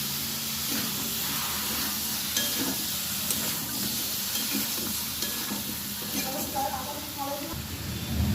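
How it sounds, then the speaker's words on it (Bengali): Pre-fried bottle gourd tossed into a pan of spices and stir-fried, giving a close, steady sizzle and hiss with scraping stirring noises, while a person talks over the cooking. "ভেজে রাখা লাউটা দিয়ে দিচ্ছি।"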